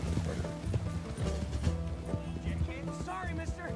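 Horse hooves gallop in a video game, a fast rhythmic clip-clop that beats steadily beneath a tonal music bed throughout.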